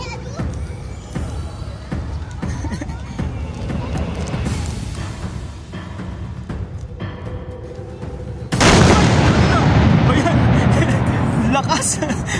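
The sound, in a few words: cannon fire on Lusail Boulevard, Qatar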